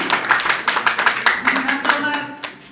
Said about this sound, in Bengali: দাদার জন্য একটা জোরে সোরে করতালি আশা করতেছি